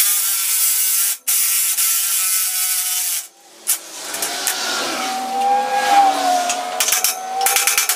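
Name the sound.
ratchet removing nuts from trailer axle shackle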